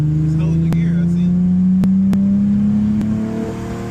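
Swapped VR30 engine in an Infiniti G37X accelerating on a highway while holding a gear, a steady rising drone with a few sharp clicks over it, close and loud inside the car.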